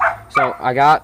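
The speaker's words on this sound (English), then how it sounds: "please excuse my dog" A dog barks close by indoors during a car oil change, two quick harmonic barks overlapping someone speaking.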